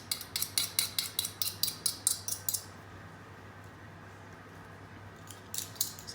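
A fork scrapes garlic from a garlic crusher in about a dozen quick, even metallic strokes. A quiet pause follows, then a few more scrapes, close up with no voices.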